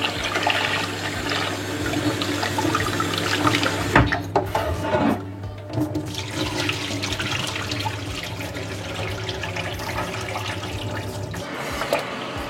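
Water sloshing and running as rice grains are swirled and rinsed by hand, with splashes and a brief lull midway.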